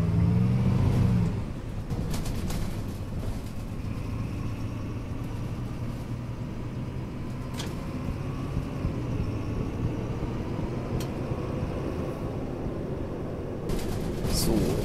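A MAN NL 223 city bus in the OMSI 2 simulator drives along with a steady low engine rumble and whirring drivetrain for about fifteen seconds, with occasional clicks and rattles and a slightly louder start and end.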